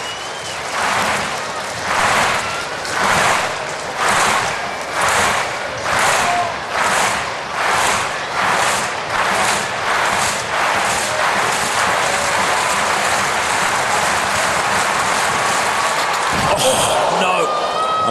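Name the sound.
Bislett stadium crowd applauding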